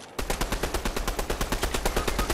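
An SMG fires a rapid, steady stream of shots in Fortnite, loud and close with an even automatic rhythm. The burst runs for over two seconds without talk.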